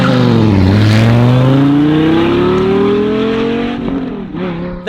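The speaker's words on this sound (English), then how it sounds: "That time I didn't talk over the exhaust." A race car under launch control roars off the start of a lap, its exhaust loud and close as the engine pitch climbs steadily through the gears, then briefly dips near the end, with no talking.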